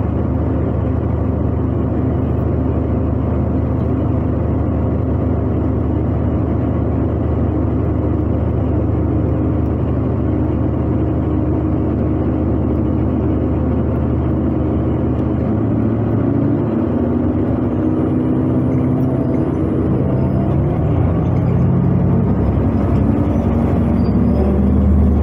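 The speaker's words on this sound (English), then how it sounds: "The bus is departing." Honolulu TheBus city bus on route 2 in Waikiki pulling away and driving, a loud continuous engine rumble and whir heard from inside that rises and shifts as it gains speed.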